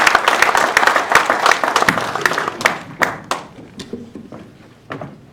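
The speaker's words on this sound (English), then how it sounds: "Let's give him another big round of applause." An audience at a climate smart agriculture conference applauds after a speech: dense clapping at first, then thinning into scattered individual claps that fade toward the end.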